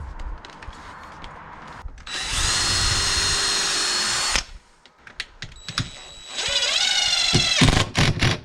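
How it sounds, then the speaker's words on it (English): A power drill bores into a new storm door in two loud sustained bursts with a rising whine, separated by a short pause and scraping handling noise, close up. "Drilling a hole into your new storm door."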